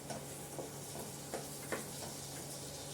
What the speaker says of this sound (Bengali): ঘিয়ের সঙ্গে জিরে, শুকনো লঙ্কা, হিং ফোড়ন দিতেই হবে